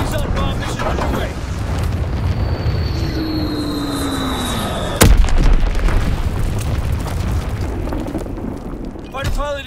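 Call of Duty WWII multiplayer bombing run: a dense roar of aircraft and rumbling blasts, then a sharp, loud explosion burst midway, with whistling descending tones and continued heavy rumble afterward.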